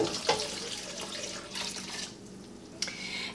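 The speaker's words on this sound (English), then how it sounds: "So now what we need to do is we need to add 6 cups of water." Tap water runs steadily into a pot while pineapple orange marmalade is being made, a continuous splashing rush at close range with a few brief clinks of the pot and no talk.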